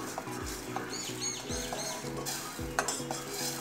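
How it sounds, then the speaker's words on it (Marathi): Spices being stirred in a cooking pot with a spoon, a faint background sizzle under repeated, regular scraping strokes; light clinks of utensils come through now and then. "व्यवस्थित हलवून घेऊयात, मसाले"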